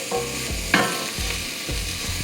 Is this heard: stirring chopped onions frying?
yes